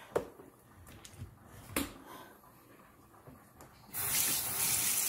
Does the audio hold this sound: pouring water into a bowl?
yes